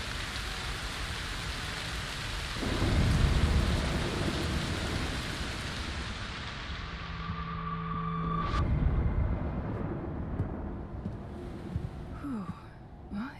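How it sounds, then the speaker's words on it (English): Steady heavy rain hisses throughout a thunderstorm in the video game Broken Pieces, swelling with low rumbling thunder twice and joined by a few brief tonal chimes, with no talk. "Maybe I can make a storm to drop this down."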